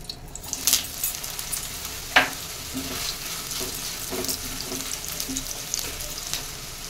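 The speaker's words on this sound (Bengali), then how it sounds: "তেল গরম হয়ে গেছে, তেলে আমি সোয়াবিন গুলো দিয়ে দেবো।" Steady sizzle of boiled soy chunks frying in hot mustard oil, with a few soft scraping stirs and light clinks, close by, with no talking.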